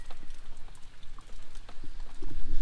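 Scattered drops patter irregularly against a surface, a dense, crackly wash of rain with no voices.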